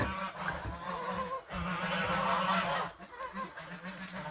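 Several geese honk repeatedly nearby, their loud calls overlapping in a noisy, continuous chorus.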